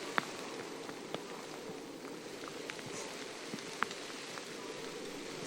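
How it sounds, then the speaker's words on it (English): Steady rain patters across the whole stretch during a 2021 orienteering relay broadcast, a fairly soft, even hiss with a few sharper drops landing nearby. "now that this rain's got heavier again"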